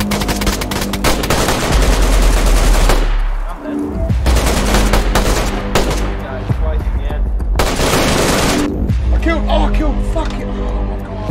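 Loud, dense automatic gunfire in the survival game DayZ Standalone, long rattling bursts nearly filling the whole stretch with brief pauses, voices of players talking mixed in.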